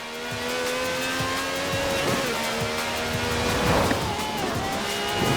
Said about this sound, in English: A good old-fashioned rolling burnout.